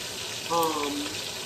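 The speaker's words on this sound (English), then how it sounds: "I'm going to brown up the meat" Steak meat for pepper steak browning in a hot pan, a short hissing sizzle swelling briefly in the middle of a steady frying wash, close and alone.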